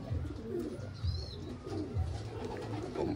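Pigeons cooing in a breeder's loft, soft low repeated coos at a steady rhythm, a few close calls rising over a constant background hum, with a faint higher chirp in between.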